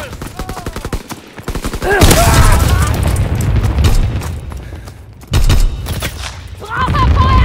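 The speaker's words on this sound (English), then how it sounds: "Enemy anti-aircraft fire." Enemy anti-aircraft fire in Call of Duty WW2 multiplayer, rapid repeating flak bursts at first, then heavy booming explosions and sustained gunfire, loud and close, with game announcer voices speaking over the barrage.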